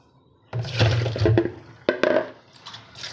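Salt water is poured and strained off soaked tomatoes, a splashing, gurgling pour that starts abruptly, runs for about a second, then comes in a second brief gush with dripping.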